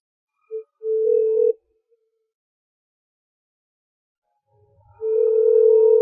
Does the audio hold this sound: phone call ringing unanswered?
yes